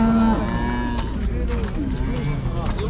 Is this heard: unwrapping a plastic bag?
no